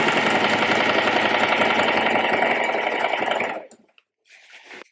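A sewing machine runs in one fast, steady burst as it stitches stretched fabric for shirring on the back of a dress, then stops abruptly, followed by faint handling noise.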